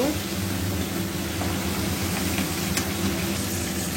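Prawns frying in oil in a home kitchen, a steady even sizzle with a low background hum throughout, no pauses.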